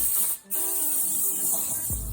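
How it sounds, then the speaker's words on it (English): Compressed air blows off a car body before painting, a steady close hiss of rushing air with a brief break near the start, then it continues alone. "I'm gonna blow it off with some compressed air and be ready to paint"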